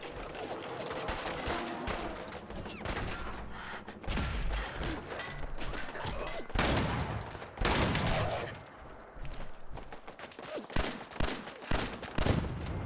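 Sustained automatic turret gunfire in the Fallout 4 video game, rapid loud bursts and continuous rattling shots with heavy thumps, running almost without a break.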